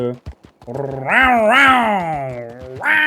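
A voice imitates a cougar hissing and snarling like a spitting cat, a loud, strained, rising and falling growl lasting about two seconds, framed by brief talk before and a short repeat at the end.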